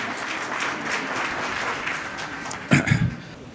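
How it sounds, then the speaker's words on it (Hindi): An audience at a Hindi comic poetry gathering applauds, a sustained roar of clapping that swells near the end with a brief louder burst. "एक बार एजुकेशन डिपार्टमेंट के लिए तालियां बजा दीजिए"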